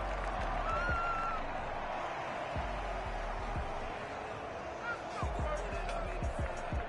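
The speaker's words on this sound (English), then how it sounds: "And the home crowd applauding." Home crowd applauding in an American football video game, a faint distant roar under a commentator's voice, with scattered thuds and a brief rise near the end.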